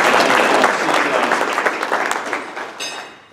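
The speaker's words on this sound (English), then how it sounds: "that deserves a round of applause." Applause from an audience at a celebration fills the room, loud dense clapping at first that gradually thins and fades toward the end.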